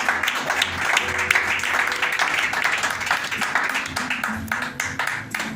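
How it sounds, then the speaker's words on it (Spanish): Steady crowd applause at a church service, dense, continuous clapping throughout, loud and sustained with a few voices faintly underneath. "Denle un aplauso a Cristo"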